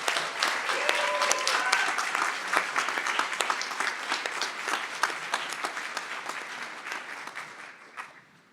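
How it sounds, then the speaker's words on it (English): Audience at a Kent State Stark commencement ceremony applauds a graduating class, with sustained dense clapping that tapers off at the end. "Let us join in applause for our graduating class."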